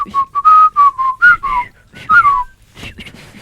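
A man whistles a bright, wavering tune in a series of short melodic phrases with brief pauses between them, close and fairly loud, while a voice briefly murmurs in the background.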